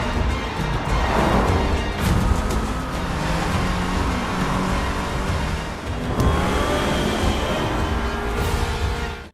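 A car in a film chase accelerates hard, its engine revving loud and close in a continuous roar that rises and surges again near the middle, with no talking over it.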